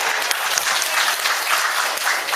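Seminar attendees on small business opportunities break into brief, steady applause, a dense even patter of many hands clapping together close by, with no voices over it.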